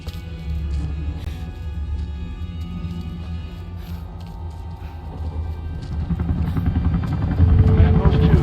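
A helicopter flies in the video game Rise of the Tomb Raider, a steady low rotor rumble and whine that grows louder and closer toward the end, with voices heard under it.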